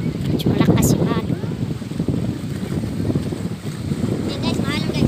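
Strong wind blowing outdoors, buffeting the microphone with constant rumbling gusts throughout, while people talk over it.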